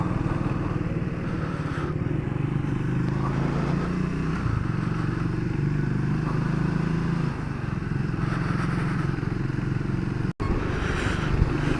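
A Triumph Speed 400 motorcycle rides steadily, its engine droning close and loud under steady wind rush, with a brief dropout near the end and no one talking.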